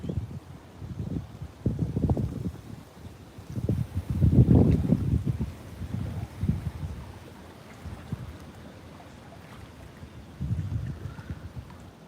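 Gusting wind outdoors at a fishing spot, buffeting the microphone in uneven low rumbling bursts that swell and fade, loud and close, with no talking.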